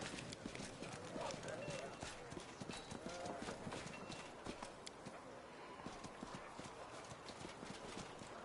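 Horse hooves clip-clop steadily in Pathfinder: Wrath of the Righteous, a continuous run of close, rhythmic hoofbeats with occasional faint whinnies, heard under someone talking throughout.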